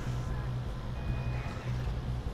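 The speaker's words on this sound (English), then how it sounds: "That pitiful beep sound." A vehicle in the video game GTA Online sounds a repeated electronic beep, short evenly spaced tones over a low engine hum, moderately loud and with no talking.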